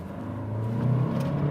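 A Renault Arkana RS Line SUV coupé engine hums low and steady in sport mode, building gently in a brief rev heard from inside the car.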